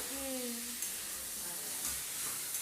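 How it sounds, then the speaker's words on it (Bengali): Paneer masala sautéing in hot oil, a steady soft sizzle with faint stirring scrapes, a brief tonal hum near the start and a few light clicks, no talking. "এইবার আমি এটা তেলের মধ্যে সব ভালো করে কষিয়ে নেব"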